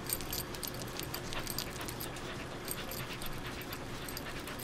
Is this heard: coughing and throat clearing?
no